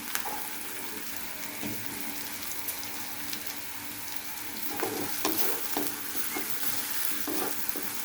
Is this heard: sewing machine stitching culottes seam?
no